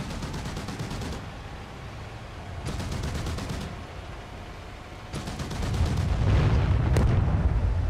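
Tank cannon fire and explosions in the DCS combat simulator, with an Abrams and a T-90 in battle, come as several booming bursts of gunfire with rumbling low blasts, growing louder toward the end.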